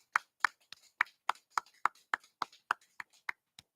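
A single person clapping slowly and steadily, about a dozen sharp, close claps evenly spaced in a quiet room, with no crowd or talk around them.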